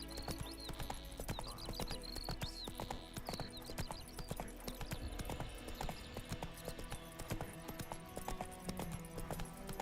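Steady clip-clop of horse hooves trotting at an even rhythm in The Witcher 3 video game, with an occasional whinny, over a continuous game background, no talking.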